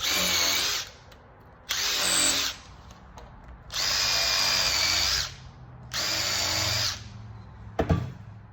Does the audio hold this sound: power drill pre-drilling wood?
yes